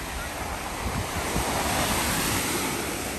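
Ocean surf rolls onto a beach in a continuous washing roar, heavily mixed with gusty wind buffeting the microphone, with no clear voices.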